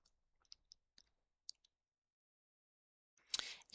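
A computer mouse clicks several times, faint and sparse, while working in a spreadsheet, followed by a louder brief rustle and knock near the end.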